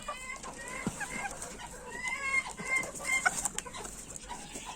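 A farm hen that lays shell-less eggs clucks repeatedly at close range, her short throaty calls coming in an uneven run over a quiet background.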